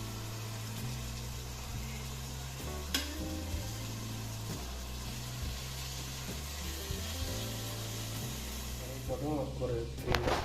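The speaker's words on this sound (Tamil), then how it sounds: "பன்னீரை போட்டு ஒரு 2 மினிட்ஸ் வதக்கினாலே நல்லா சாஃப்டாக பன்னீர் நல்லாவே வெந்துடும்." Paneer cubes for biryani sauté in a pan, giving a soft frying sizzle and occasional stirring scrapes beneath a steady low hum, faint overall, with a voice talking through it.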